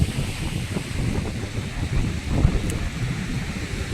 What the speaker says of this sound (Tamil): பாருங்கள், இந்த அலைகளுடைய சத்தம் வந்து எப்படி இருக்குது பாருங்கள்